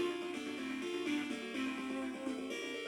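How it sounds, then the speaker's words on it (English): Sonic and Knuckles game music from an aftermarket Sega console plays quietly, with tinny, harsh tones and a thin, distorted melody throughout. "Sonic and Knuckles should not sound like this."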